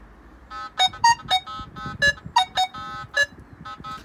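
A series of bright electronic beeps from a Nokta Makro Legend metal detector, about a dozen short tones in an uneven rhythm, close and clear over faint low background noise.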